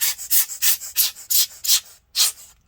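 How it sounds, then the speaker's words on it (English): Short bursts of air from a small hand blower hiss into an ASUS GL504G laptop to clear out dust, about eight close, breathy puffs in a fairly steady rhythm with a brief pause before the last one. "I'll try using the small air blower and blow that all out as much as I can."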